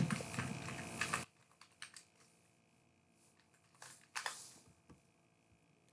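Quick bursts of typing on a computer keyboard, a dense flurry of close clicks at the start, then sparse single keystrokes and a second short burst, with no talk over it.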